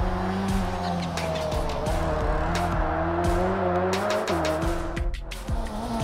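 A GT A class race car in the racing game Project Cars 3 brakes hard for a chicane. Its engine note drops and shifts through the gears, and brief tire squeals cut in, loud and close.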